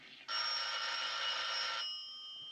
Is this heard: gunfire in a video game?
no